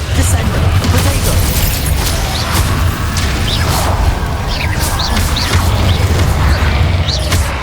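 Bombarda spell blasts in Hogwarts Legacy, dense repeated booms and crackling bursts layered over continuous game combat noise, loud and busy throughout with no letup.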